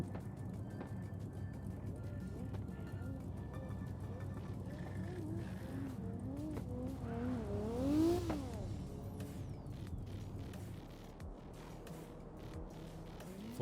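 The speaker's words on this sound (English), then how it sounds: "Full throttle now that he's through the 40 roll" Drift car engine at full throttle during a drift championship qualifying run, rising and falling revs sweeping upward in a steady roar that peaks loudly near the end before easing off, with faint commentary underneath.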